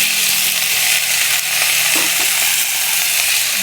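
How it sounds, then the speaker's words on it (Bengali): Pumpkin, potato and pointed gourd frying in hot oil over browned onions for a curry, giving a steady, close, dense sizzle that holds throughout with no voices. "সবজিটাকে তেলের সঙ্গে ভালো করে ভাজবো আমি একটু।"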